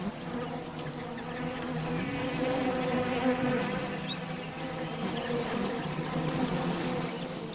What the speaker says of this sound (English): the bush fly.